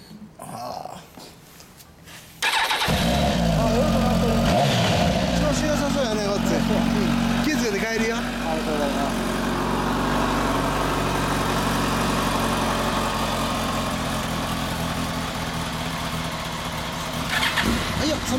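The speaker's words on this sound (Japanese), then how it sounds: "エンジン音聞かせてもらえる？" A stock 2006 Kawasaki Ninja ZX-10R motorcycle engine idles steadily and close by, starting abruptly after a short quiet opening and holding a loud, even drone throughout with small throttle variations.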